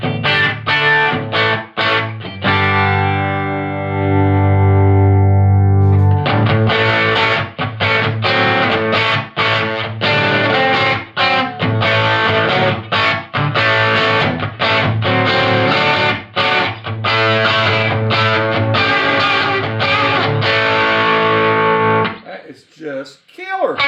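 A Telecaster electric guitar on its bridge pickup plays through a Fender Rumble 100 bass amp: loud, distorted chords and strummed riffs with ringing sustain, continuous for most of the stretch before trailing off.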